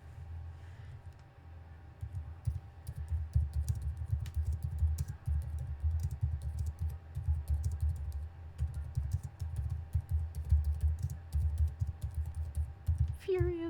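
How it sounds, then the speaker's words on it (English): Rapid, furious typing on a computer keyboard during a Final Fantasy XIV session, a steady dense stream of key clicks over a low background hum, continuing for the whole stretch without speech. "Furious typing."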